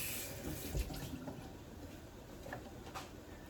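Hot water runs steadily into a cooking pot of chicken and dumplings, a soft continuous pour with faint splashes and no talking.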